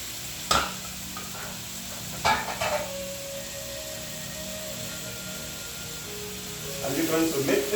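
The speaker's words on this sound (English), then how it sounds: "you're going to add the onions. And you're going to add the garlic and the ginger." Onions, garlic and ginger drop into a hot pan for a Caribbean chicken dish, with a steady sizzle, a few sharp clanks of utensil on pan, and stirring scrapes building toward the end.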